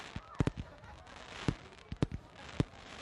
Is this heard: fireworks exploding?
yes